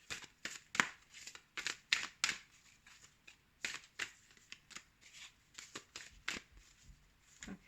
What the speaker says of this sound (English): it's difficult for me to shuffle these cards because they're so big